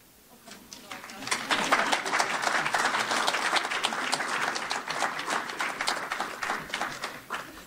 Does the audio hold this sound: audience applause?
yes